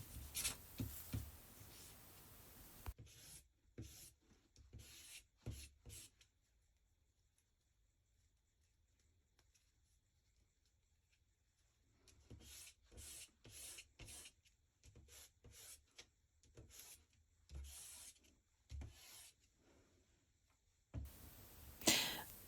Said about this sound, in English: And now for that kneadable eraser. It's going to pick up any of that pastel that we blew away during our art making.